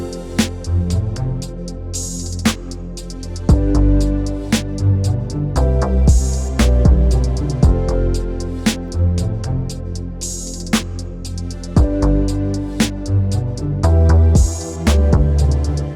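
Full beat built only from Nexus 3 synth sounds: punchy low kicks, snappy hits and layered synth chords with rising sweeps, loud and steady for the whole stretch, no voices.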